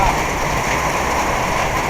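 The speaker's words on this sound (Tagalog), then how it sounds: "Malakas ang ulan." Heavy rain pours in a dense, steady hiss, loud and close, with no pauses across the short stretch.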